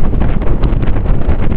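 Heavy gusting wind pounds the microphone at a lagoon shore, a loud, dense rushing roar that stays constant throughout with brief flutters.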